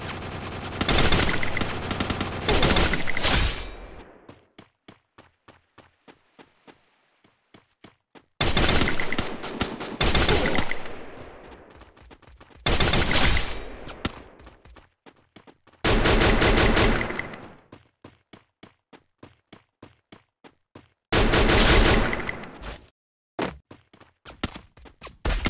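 Gunfire in the mobile game Free Fire, loud bursts of rapid automatic fire lasting a few seconds each, separated by quieter stretches of single shots and faint game sounds, with no talking.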